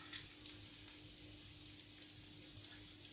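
Diced onion frying in a pan, a soft, even sizzle with faint crackles and pops, quiet and close, with no talking.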